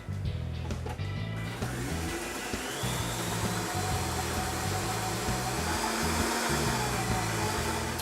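A blender purees scallions with ghee in a kitchen, whirring loud and continuous for several seconds with a choppy, pulsing low hum as the blade works through the mixture, no voices.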